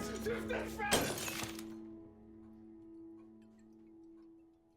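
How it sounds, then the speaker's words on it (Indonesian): A stone shatters in a film scene about a bunker heist: a sudden crunching break with scattering debris, loud and close, then a lingering low hum and faint ticking. "batu itu pun pecah"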